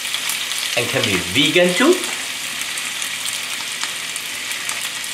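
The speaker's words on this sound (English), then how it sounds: "I like to stir fry the noodle first" Thick rice noodles stir-fry in a hot wok with ginger and garlic, giving a constant sizzle with stirring scrapes, while a voice speaks briefly over the cooking.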